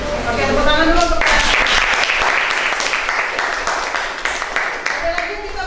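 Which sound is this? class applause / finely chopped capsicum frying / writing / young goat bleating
class applause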